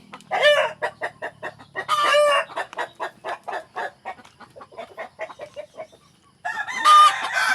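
A fighting rooster crows loudly and close, with strong drawn-out calls at the start and end and rapid rhythmic clucking in between, in a farmyard setting.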